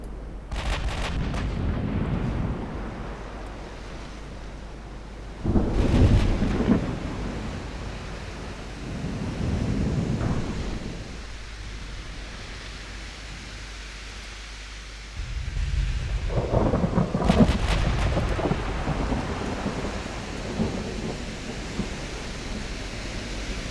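Warship naval guns firing in the Ultimate Admiral Dreadnoughts game, heard as several heavy, booming blasts a few seconds apart, each rolling away into a long rumble over a low, steady background.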